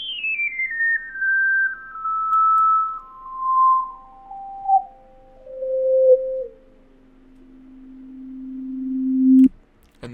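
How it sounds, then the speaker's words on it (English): Synthesizer tone with cranked filter resonance, a resonant harmonic stepping down in pitch in uneven glides from high to low, ending on a steady low drone and a sharp click, pulsing in loudness, no speech. "You can really hear those harmonics shine through."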